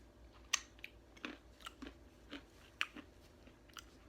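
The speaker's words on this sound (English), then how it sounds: "crunchy roasted almond" A crunchy roasted almond being chewed up close, a series of sharp irregular crunches and bites, quiet and close to the mic with no talk.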